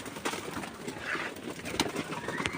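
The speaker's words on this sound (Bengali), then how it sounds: "এই যে আমার মাদি কবুতর" Female pigeons coo on a rooftop loft, soft throaty calls close by over a rustling, noisy background.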